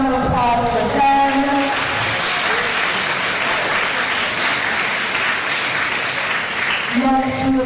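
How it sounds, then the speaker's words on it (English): A gala crowd breaks into full, steady applause for the leadership council, framed by a speaking voice at the start and end, the clapping thick and continuous in between. "So a big round of applause for them."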